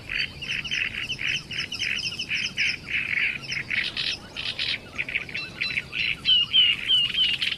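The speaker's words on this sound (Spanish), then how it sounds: "las aves que han encontrado su sitio se entregan al canto" Many birds sing and chatter in spring reed beds at Lake Neusiedl, Austria, with dense overlapping warbler-like calls and repeated phrases continuing throughout, fairly close and loud, with no talking.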